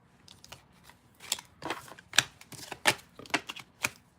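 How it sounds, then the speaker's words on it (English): A deck of playing cards being shuffled in one full shuffle, heard as a series of crisp riffling and snapping bursts at irregular intervals, fairly close and moderately loud, with no talking. "Okay, one full shuffle."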